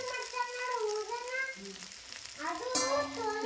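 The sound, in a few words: vada batter frying in hot oil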